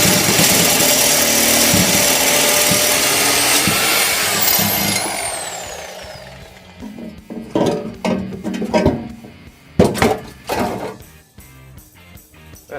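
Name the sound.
cutting out exhaust pipe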